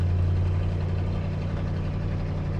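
A 1968 Ford Bronco four-wheel drive with a small block V8 and aftermarket exhaust idles steadily nearby, a deep even rumble that holds unchanged for the whole stretch with no voices.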